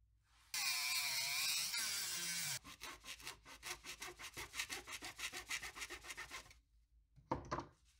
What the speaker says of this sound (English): I'm going to go ahead and cut the legs and the tail off.